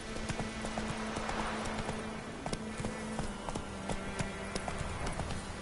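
Roach, a horse in The Witcher 3, gallops in a steady, rapid clip-clop of hooves that stays close and loud throughout, with an occasional snort over a low continuous game background hum.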